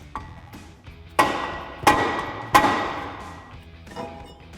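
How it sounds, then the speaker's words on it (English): Three loud, sharp dead blow hammer strikes bang a rust-seized rear brake rotor on a 2005-2010 Ford Mustang, each hit ringing briefly and decaying, with a few lighter taps before and after. "you may need to use a dead blow hammer in order to bang that off and break it free from all the rust around the edges"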